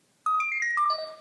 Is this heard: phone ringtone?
yes